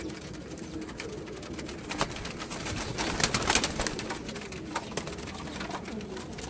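Domestic pigeons on a rooftop loft coo steadily amid a busy, noisy outdoor background, with the calls swelling slightly in the middle before settling back to a constant level.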